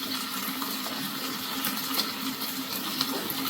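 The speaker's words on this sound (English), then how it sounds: "And a little more pasta water now." Starchy pasta water pours steadily into a pan of Bolognese sauce, a continuous splashing stream with small bubbling accents and no talking.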